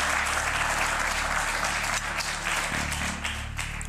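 Studio audience on a German TV cooking game show breaking into loud, continuous applause, a close, dense patter of many clapping hands throughout, with a low steady hum beneath it.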